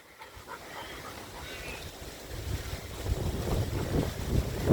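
A young dog pants steadily outdoors against wind buffeting the microphone. The breathing grows louder and closer over a few seconds.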